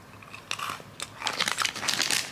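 Mini Oreo cookies come out of their small crinkly wrapper and are bitten, with plastic crinkling and crunchy munching close to the mic and building louder toward the end, with no one talking.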